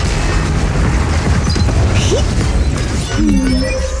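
Heavy barrage explosions in the video game Zenless Zone Zero, a dense, loud, continuous roar of blasts and crashing impacts with sci-fi tones layered on top near the end.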